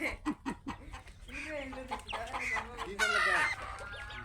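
Ducks cluck and call close by in a quick burst of short notes, then longer harsh squawks, with calls throughout as they are chased and caught.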